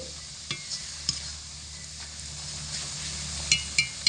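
Spices are being stirred through a raw mango laddu mixture, with soft scraping under a faint steady hiss and a few sharper clinks of a spoon against the bowl toward the end.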